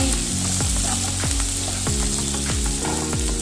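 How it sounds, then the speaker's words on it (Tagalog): Chopped onion and fresh green chili sizzle steadily in a hot pan for a home-style moong dal, a constant close hiss running throughout with a repeating low rhythmic thump beneath it. "Let it fry the onion and chili."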